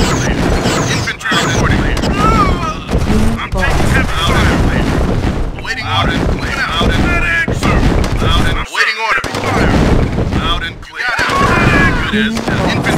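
Gunfire and explosions rage throughout a real-time strategy video game battle, dense and loud bursts layered with game voices and unit callouts almost continuously.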